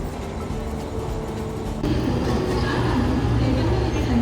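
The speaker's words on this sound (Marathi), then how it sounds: "आमची ट्रेन आली आहे दिव्याला जाण्यासाठी." A commuter train rumbles into a station platform in the Mumbai suburbs early in the morning, a steady low roar that grows louder partway through as the cars draw alongside.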